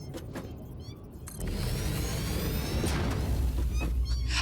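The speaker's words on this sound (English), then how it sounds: "That's a water extractor." A water extractor machine in Satisfactory starts up and runs as a loud, steady mechanical roar and rush, continuing without a break.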